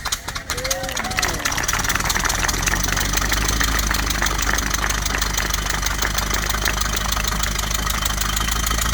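A Ford Model T engine runs steadily after a hand-crank start, a continuous loud mechanical clatter and idle that fills the whole clip, with a brief louder burst at the start.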